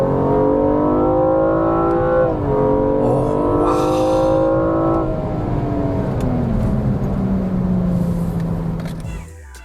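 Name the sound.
BMW M235i F22 coupe engine sound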